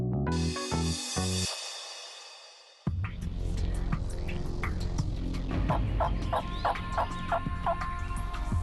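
A wild turkey gobbles in the woods during a hunt, a rolling burst near the start that fades, followed by softer outdoor ambience with scattered faint calls and clicks.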